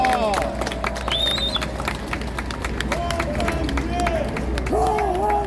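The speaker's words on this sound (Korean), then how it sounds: "다시 한번 힘을 끌어모아 박수 부탁드리겠습니다" Audience at a political rally claps in a dense, sustained patter of applause, with a voice and some tonal sounds running over it throughout.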